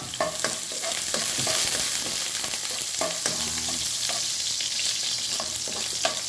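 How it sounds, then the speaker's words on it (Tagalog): Garlic and other aromatics sauté in a pan for beef stew, a loud continuous sizzle with frequent spatula scrapes and taps close up, and no speech. "gigisa na natin yung mga ricado. Bawang."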